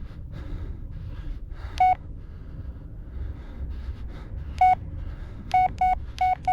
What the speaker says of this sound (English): Let's call Jess. See if she answers